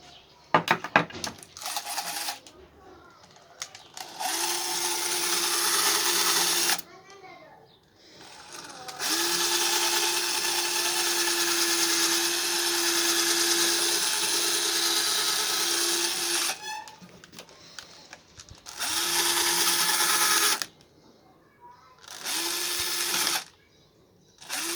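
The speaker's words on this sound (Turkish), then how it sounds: "Yerini delmemiz lazım." A drill boring a hole into a watermelon to fit a tap, with several bursts of loud, close whirring motor noise separated by short pauses, the longest run lasting about eight seconds.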